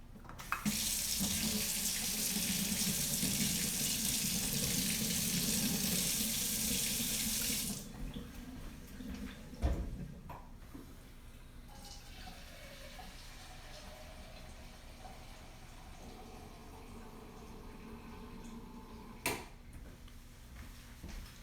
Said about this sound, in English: And I'm gonna get some super hot water.